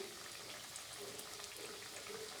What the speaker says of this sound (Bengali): আমি তিনটে তিনটে করে দিয়ে অল্প অল্প করে ভাজিয়ে নিচ্ছি